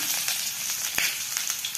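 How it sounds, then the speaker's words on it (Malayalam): Mustard seeds pop and splutter in hot oil in a pan, a steady bright sizzle broken by sharp crackling pops, close up with no voices. "കടുക് പൊട്ടിയതിന് ശേഷം"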